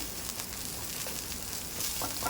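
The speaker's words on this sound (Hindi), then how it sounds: "यहाँ पे अंडा हो गया है, अंडे को स्क्रम्बल कर देंगे इस तरीके से हम" Scrambled egg fries in a little oil, giving a steady, even sizzle and crackle with brief scraping stir sounds near the end, close and moderately quiet.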